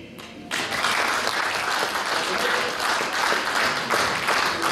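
A crowd applauds at a folk music stage concert in Șoldănești. After a brief quiet opening, the clapping swells into a full, steady ovation that carries on to the end.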